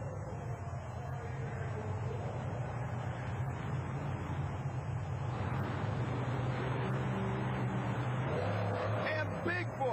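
Monster trucks, including Bigfoot, roar off the starting line on an arena floor at a 1991 USHRA show in Worcester, Massachusetts, heavy engine drone building and rising toward the end, echoing in a large hall under crowd noise.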